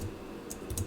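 Typing on a computer keyboard during a COMSOL modelling session, a few quick key clicks clustered near the end over a low steady room hum.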